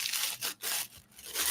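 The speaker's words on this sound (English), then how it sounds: "let me just mix up this Millie putt really quick" Two-part Milliput epoxy putty being kneaded by hand, quiet close rubbing and squishing in a few short bursts separated by brief pauses.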